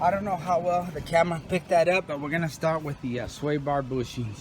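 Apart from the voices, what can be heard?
None of the usual background noises is heard.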